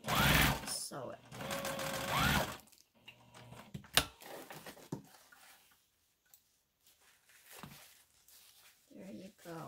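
A sewing machine hemming a prom dress with horsehair, a loud close whirring run of stitches at the start, then quieter fabric handling and brief bursts, with a person speaking.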